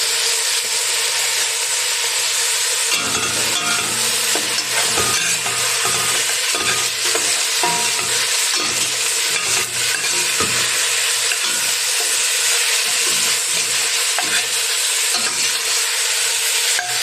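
Matatis, an Arabic eggplant dish seasoned with salt and buharat, sizzles steadily in a pan while a spoon stirs it with soft scraping strokes, loud and close, with no talk.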